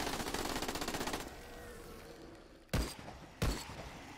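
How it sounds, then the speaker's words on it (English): Rifle and SMG gunfire in the video game Dead Frontier 2: a rapid burst of automatic shots, then a sustained noisy stretch and two louder single heavy shots near the end, up close with no talking. "the rifle one-shots everything. The SMG absolutely demolishes the bosses in just one mag"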